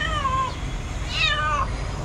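A frightened cat meows twice, close and loud, with drawn-out wavering cries over steady background noise near a compost area where a snake was found.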